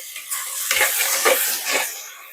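Onions and tomatoes sautéing in oil for fish curry, a soft close sizzle with scraping stirs of a utensil against the pan in a few bursts.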